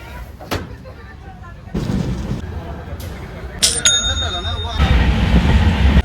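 A train rumbles past at an Indian railway station on the Pune–Kolhapur line near Hatkanangale, with rising rolling noise, clanks and a sharp bell-like ring amid station ambience and background voices.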